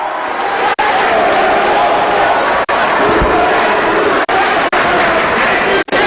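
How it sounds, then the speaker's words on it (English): Loud, rowdy home crowd of Nashoba fans roaring and cheering steadily through a varsity boys basketball game against St. John's, with a commentator talking over the din. "Very rowdy Nashoba crowd."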